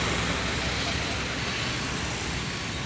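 A Sempati Star bus setting off from Jalan Soekarno-Hatta toward Medan and Banda Aceh with a full load, a steady broad engine and road rumble held at an even level throughout, with no distinct rise or pass.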